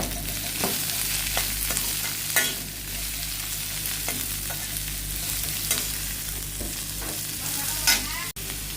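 Two large, finely chopped onions and garlic sautéing in a pan, giving a loud, steady close sizzle broken by periodic scraping stirs of a spoon.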